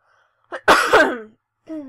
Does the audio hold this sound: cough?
yes